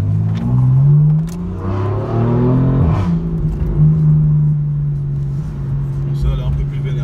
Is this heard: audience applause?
no